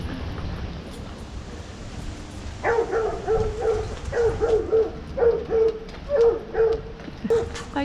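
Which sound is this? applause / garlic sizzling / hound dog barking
hound dog barking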